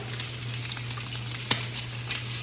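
Chicken wings frying skin side down in a pan, a steady close sizzle with crackling spits and one sharp pop partway through, under a constant low hum.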